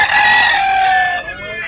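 A bullstag gamecock of claret bloodline at a market in Talisay, Cebu, lets out one loud, close crow, a single drawn-out cock-a-doodle call lasting about a second and a half.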